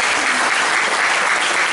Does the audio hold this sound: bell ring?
no